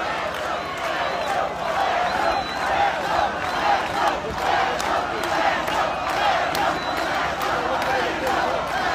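Large crowd at a political gathering applauds and cheers for a man and his family, a loud sustained roar of clapping and shouting voices blended together throughout.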